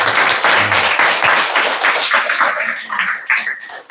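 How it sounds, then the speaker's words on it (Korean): A church congregation standing and applauding together, dense continuous clapping that stays loud throughout before thinning slightly at the end. "자리에서 잠깐 일어나서 박수 한번 해주세요"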